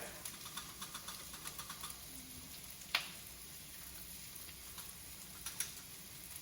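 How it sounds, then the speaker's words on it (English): Garlic cooking in a pan for vegan butter tofu gives a soft, continuous sizzle with scattered small pops and one sharp clatter midway, quiet and close with no talk. "We've got the garlic cooking and doing its thing."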